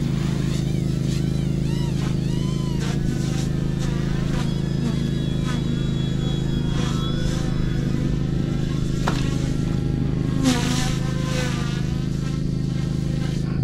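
An OMPHOBBY M1 EVO RC helicopter spools up in idle-up 1 with a steady, droning rotor and motor whine that stays constant for over thirteen seconds. Faint higher chirps and background sounds drift over the hum.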